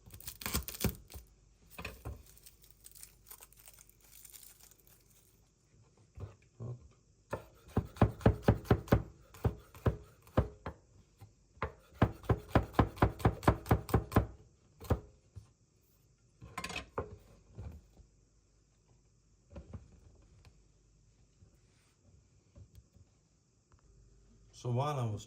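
Knife chopping vegetables for salsa on a cutting board in a home kitchen, with rapid bursts of close, crisp taps and knocks separated by quieter pauses of handling.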